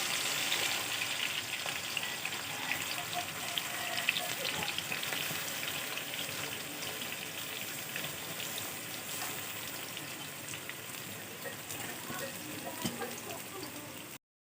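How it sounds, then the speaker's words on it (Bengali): Onions frying in hot oil for birista, a steady dense sizzle with faint crackles and pops holding at even loudness throughout, close and alone, with no voices, cutting off abruptly near the end. "এবার পেঁয়াজগুলো বেরেস্তার জন্য ভালোভাবে ভেজে নেওয়া হবে"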